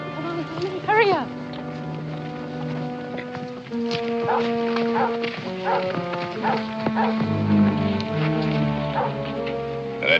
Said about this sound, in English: Now, that dog's on a trail.